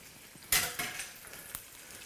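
An egg sizzles steadily in a hot pan, with a few sharp scraping clinks of a utensil against the pan over the constant frying hiss.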